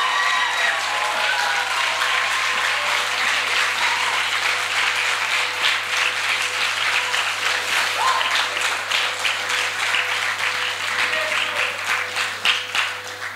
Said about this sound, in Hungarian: Varga Sándornak szóljon a taps